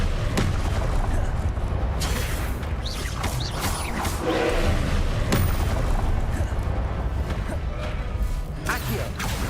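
Confringo explosion spells cast in Hogwarts Legacy, several sharp booming blasts and whooshes in a dense, busy battle mix, with brief spoken spell names among them.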